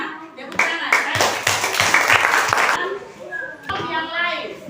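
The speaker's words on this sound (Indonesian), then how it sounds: "Tepuk tangan." Classroom students clap for a group that has just presented, a burst of mixed clapping with children's voices and a teacher talking over and after it.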